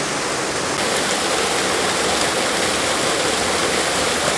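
Lake water rushing steadily through a channel at a waterworks, a loud, close, unbroken gushing flow with no voices.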